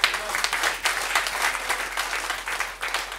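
An audience at a business seminar in Jehanabad claps loudly in sustained waves of applause, swelling and dipping for a few seconds with no speech over it.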